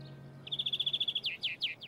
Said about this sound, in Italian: Uccellini, guarda, uccellini!